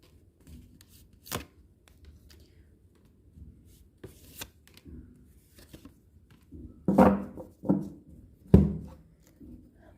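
Tarot cards are handled and laid out, with soft shuffling, then a few crisp slaps and snaps of cards set down. The sounds are close, sparse and intermittent against near silence.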